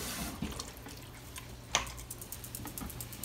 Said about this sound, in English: You just add a little bit of water and then you just spin it around